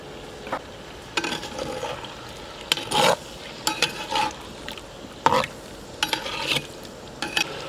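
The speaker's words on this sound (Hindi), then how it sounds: "पहले हमने इस चिकन को फ्राई करना है" Chicken leg pieces with cuts fry in oil in a pot, a soft continuous sizzle broken by a series of close scraping stirs and clatters every second or so.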